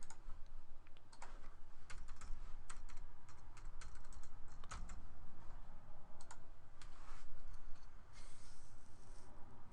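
Typing a username and password on a computer keyboard while connecting an online service channel: irregular bursts of close, crisp key clicks with short pauses, and no talking.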